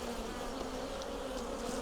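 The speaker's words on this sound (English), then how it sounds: "Bees aren't really leaving the boxes today." Steady, dense buzzing of bees around hive boxes on an overcast, cool day, a continuous drone close by with a few brief higher whines from individual bees passing near.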